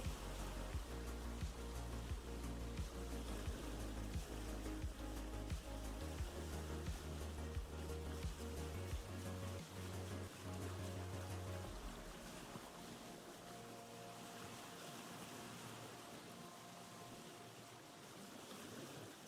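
A boat sails across water in the Vintage Story game: a steady rushing wash of waves and wind, fairly loud, easing off slightly toward the end, with no speech.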